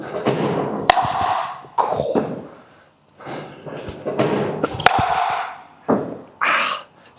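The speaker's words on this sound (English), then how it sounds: "It's really loud when you hit the ball." A Selkirk Boomstik pickleball paddle strikes the ball during fast net volleys, producing a series of sharp, loud pops spaced about a second apart, with scuffing and movement sounds between them.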